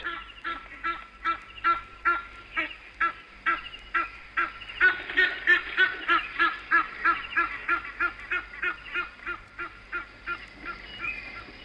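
Geese honk repeatedly at a safari waterhole, a rhythmic series of loud, nasal calls that swell in the middle and taper off, close and clear with no talk over them.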